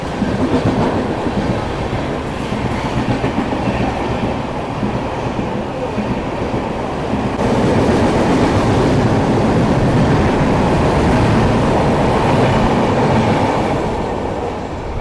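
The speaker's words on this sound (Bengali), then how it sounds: "এই আসছে সাঁতরাচি কার সেটের ফলাকডুমা এক্সপ্রেস" Santragachi–Secunderabad Falaknuma Express train passing close by, a loud continuous rumble of wheels and carriages with rhythmic clatter, growing heavier partway through as more coaches roll past.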